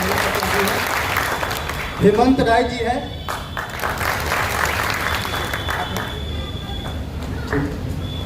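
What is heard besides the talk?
audience applause at political gathering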